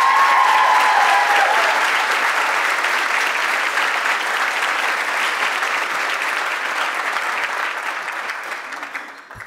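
Loud, sustained audience applause filling a hall as Sara Martinez-Tucker is welcomed to the stage at an event for Subiendo students and parents, steady for several seconds before tapering off at the end.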